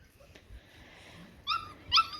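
Maremma puppies give a few short, high whimpers and yips, the clearest two at the end, over a low background rumble.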